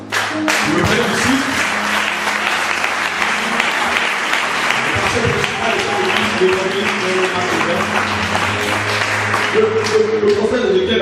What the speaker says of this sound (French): Je voudrais qu'on acclame le Seigneur très fort.